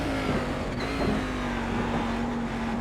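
A race car engine in the iRacing video game at Watkins Glen, a steady loud droning hum holding a nearly constant pitch with a slight downward drift, with no talk.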